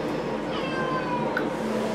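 A cat named Lilly meows through a steady wash of running water during her first bath, the cry rising clearly above the background.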